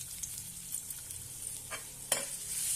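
Sliced garlic cloves and grated ginger sautéing in a pan for brinjal chutney, a quiet continuous sizzle with two brief scraping stir sounds near the end, close up and without speech.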